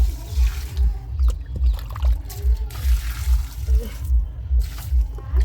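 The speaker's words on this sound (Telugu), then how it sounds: "మొక్కలకు నీళ్ళు పొద్దామని వచ్చేసాను" Water poured onto garden plants such as gongura and spinach, with soft trickling and splashing in repeated pulses under low rumbling, fairly close.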